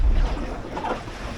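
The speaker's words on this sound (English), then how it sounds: "Oh, that was a big wave." A big ocean wave strikes a small 21-foot home-built sailboat on a solo Atlantic crossing, a broad low rushing wash of water and wind noise lasting the whole moment, close and steady.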